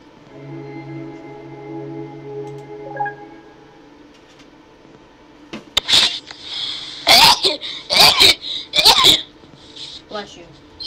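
Several sharp sneezes burst out in quick succession during a horror game session, loud and close, after a stretch of quieter background sound.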